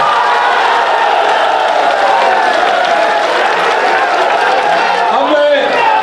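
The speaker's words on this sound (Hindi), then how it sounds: "आज सबकी तरफ से मैं चाहता हूं उनका भी जोरदार तालियों से आप स्वागत करें।" Crowd at a Samajwadi Party election rally applauding and cheering, a steady loud roar of clapping and voices, with a loudspeaker voice faintly over it.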